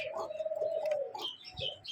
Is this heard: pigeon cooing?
yes